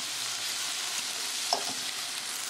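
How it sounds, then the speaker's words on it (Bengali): Sliced onions fry in a pan for a spicy jackfruit seed and prawn curry, giving a steady, close, loud sizzle with one brief clink of a stirring utensil midway, and no voices. "পেঁয়াজ লালচে করে ভেজে নিতে হবে।"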